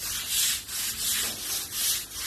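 A broom scrubs green moss off a front yard in rhythmic strokes, about five close, even scraping passes with no talking.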